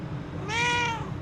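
A cat at the Macomb County Animal Control shelter lets out a single clear, drawn-out meow, close and fairly loud, over a low room hum, with no talking.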